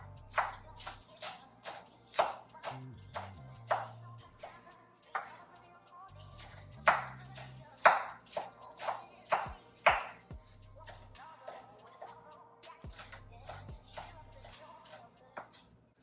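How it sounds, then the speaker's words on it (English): Knife chopping cauliflower leaves into small chunks on a cutting board, a string of crisp taps in uneven bursts with short pauses, close and fairly quiet against a faint low hum. "Chop your cauliflower leaves into little chunks"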